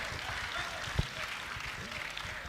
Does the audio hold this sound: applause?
yes